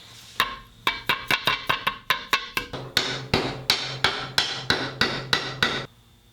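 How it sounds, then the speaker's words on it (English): Steel hammer striking a part into place on a 1977 Ford 351M V8 during an engine rebuild: about sixteen sharp, loud blows in a steady rhythm, quicker at first and then evenly spaced, with no talking. "I'm just gonna hit it on with a hammer here"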